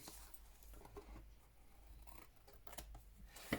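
Scissors trimming the edge of a wrap cover, giving a few faint, quiet snips and small rustles against a near-silent room, with no voices.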